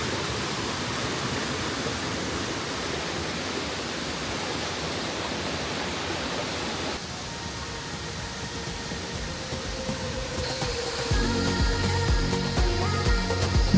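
A small waterfall beside a temple at Goa Gajah in Bali gives a steady, close rushing wash of water. Partway through it thins, and other tonal sounds and a fuller low rumble come in over it.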